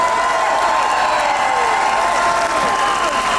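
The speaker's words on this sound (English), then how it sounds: "So can we just have a round of applause for all the Palestinian medics?" Dense, steady applause from a crowd at a speech fills the clip, loud and continuous throughout.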